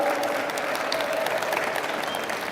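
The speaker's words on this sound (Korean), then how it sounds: "뜨겁게 서로 박수 한번 쳐주겠습니다" Worshippers at a Sunday church service applaud one another, a continuous crowd of clapping hands at even loudness with a faint sustained tone beneath.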